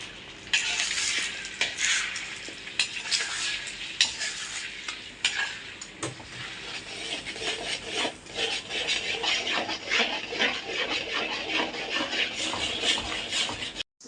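Egg fried rice stirred and tossed in a pan over high flame, with a steady scraping, rasping stir against the metal above a constant sizzle of frying; continuous and close, no talk.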